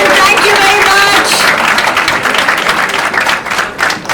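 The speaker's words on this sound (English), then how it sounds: "Big round of applause for these amazing gentlemen." Audience applause for speakers at the close of an evening conversation event, a loud sustained burst of many hands clapping that swells and continues throughout, with faint voices and whoops mixed in at the start.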